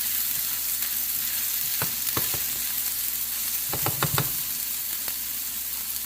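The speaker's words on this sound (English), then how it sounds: "We're going to saute the onions." A cup of onions sautés in a pan for fried rice, a constant moderate sizzle broken by a few sharp utensil taps and a quick cluster of knocks near the middle.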